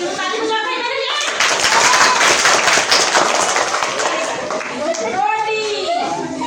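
Children clap together through a few seconds at a children's storytelling and rangoli competition in Narharpur, with the clapping dense and close while young voices chatter over and around it, fading as the talk resumes.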